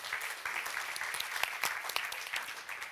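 An audience at an advertising awards show applauds, a dense and fairly faint wash of many hands clapping steadily throughout.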